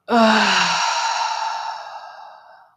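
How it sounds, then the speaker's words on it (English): A long, loud exhale during yogic breathing, starting with a voiced sigh and fading into a breathy outflow of air over about two and a half seconds, close and alone. "And then exhale out."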